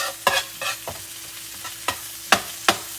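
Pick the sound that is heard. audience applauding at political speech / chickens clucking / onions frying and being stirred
onions frying and being stirred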